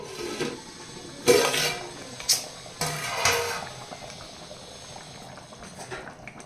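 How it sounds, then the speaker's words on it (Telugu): Tamarind fish curry broth bubbles in a pot over high flame, a low simmering burble interrupted by a few clinks and splashes of utensils against the vessel, close and fairly quiet. "తర్వాత కొంచెం హై ఫ్లేమ్ పెట్టి ఈ పులుసు తిరగబడాలన్నమాట అప్పుడు ఈ పులుసు మరుగుతూ ఉండగా"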